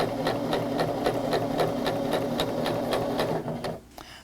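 A sewing machine stitches a quilt block in a steady, close, continuous whir with regular stitch pulses, then slows and stops near the end.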